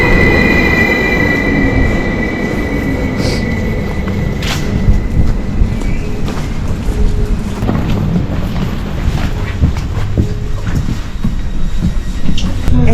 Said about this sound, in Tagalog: Ayun na yung train.